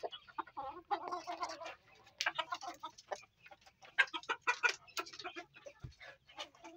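A black hen, a Rhode Island and Jersey Giant cross, clucks in a series of close, moderately loud calls and short bursts with brief pauses between them.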